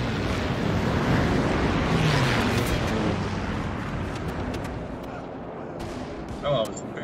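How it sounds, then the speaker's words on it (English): Incendiary bomb explosion in the video game Company of Heroes 3 during a 4v4 multiplayer match: a loud broad roaring blast that rumbles and slowly fades, followed by faint distant pops and battle noises. "Here comes the incendiary bomb!"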